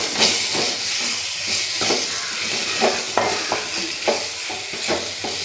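Masala with fresh coriander is stirred and fried in a pan, giving a steady sizzle broken by repeated scraping strokes of a spoon at a brisk, uneven rhythm.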